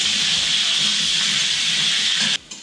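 Potatoes fry in hot oil tempered with whole spices, a steady loud hiss and sizzle that runs without a break, then drops away abruptly near the end.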